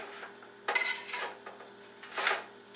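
Browned parmesan sage pork chops being turned in a pan, with a few scraping clinks of utensil against cookware over a low background hiss, close and alone without talk.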